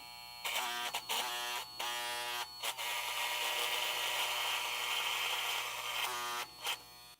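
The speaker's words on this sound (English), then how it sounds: "You ever seen a machine go through a brush like that?" A VGR 880c hair clipper buzzes steadily as it cuts through a brush, its motor tone shifting under load, with brief stops and restarts at close range and no talking.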